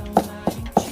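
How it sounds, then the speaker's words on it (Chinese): A knife finely chops Chinese yam on a cutting board, making three sharp, close knocks spaced about a third of a second apart. "切得稍微碎一点"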